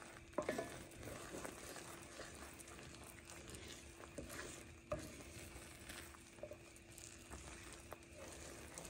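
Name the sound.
scraping cooking butter toffee candy in a pan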